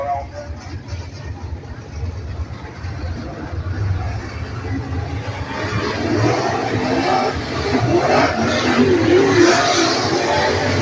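Race cars run hot laps at Beckley Motor Speedway during the Eslie Bills Memorial, engines droning at a distance and rising toward the end under an announcer's commentary.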